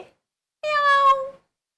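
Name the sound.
kitten meowing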